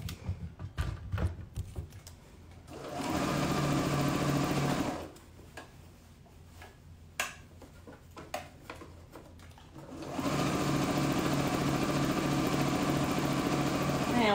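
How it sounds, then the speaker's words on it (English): A serger overlock machine stitches an elastic waistband onto a pair of shorts, its steady, fast motor whir running in two sustained bursts separated by a quieter pause. "Okay, so I'm just sewing this waistband on all along the top."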